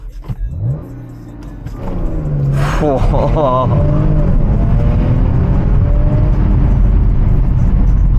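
A 2013 Audi S5 Sportback engine rises from idle into a loud, sustained rev with the brake held for a launch, the pitch climbing and then holding steady and close, while a voice talks over the start.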